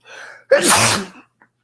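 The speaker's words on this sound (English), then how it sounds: "Sorry to sneeze." A single loud sneeze with a sharp intake of breath before it, preceded by a softer breathy sound and followed by a brief faint click.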